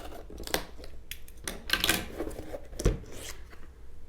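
A cardboard box holding an Eafengrow EF161 fixed-blade knife is cut open, producing close, scratchy slicing and rustling bursts with a couple of sharper snaps.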